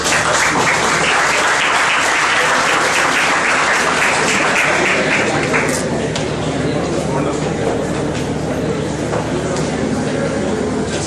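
A university audience claps loudly for a guest of honor receiving a gold medal at a tribute ceremony. The dense, sustained applause is strongest early and eases slightly after the midpoint, with voices faintly mixed in.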